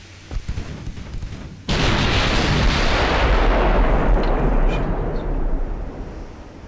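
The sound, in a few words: battleship 14-inch naval gunfire in Ultimate Admiral Dreadnoughts video game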